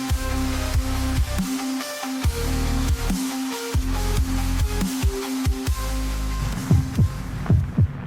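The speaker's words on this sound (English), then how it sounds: "This is the sound of a human heart." Human heartbeat presented as the sound of a human heart, a steady, loud, low throbbing pulse that repeats at an even rhythm, with a hum underneath throughout and no talking.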